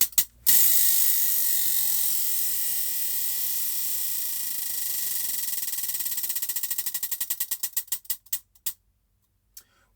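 A spinning prize wheel clicks rapidly as it turns, the ticking starting dense and fast then gradually slowing into separate distinct clicks before stopping, loud and close with no voices.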